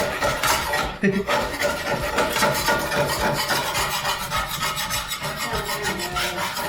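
Continuous rough scraping of a spatula on a hot pan while a burger cooks in hot oil, a dense, steady rasping with brief sizzle underneath and no speech.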